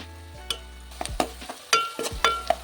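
Chopped onions fry in a pan for a drumstick, egg and fish curry, with a soft sizzle under sharp, irregular spatula scrapes and knocks against the pan; no one speaks.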